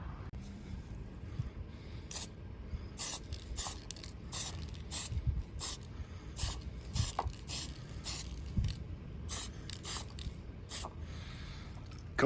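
Bursts of spray paint hiss onto taped-off panels in light coats, short repeated puffs coming in an irregular rhythm, fairly quiet and close, with no voices.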